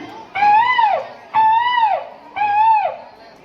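A child on a school stage imitates a peacock call with three loud, evenly spaced wailing cries, each rising and then falling away.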